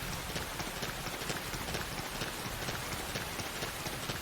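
Rain falls steadily in the video game Xenoblade Chronicles X, a dense, even hiss with faint pattering throughout and no other clear sounds.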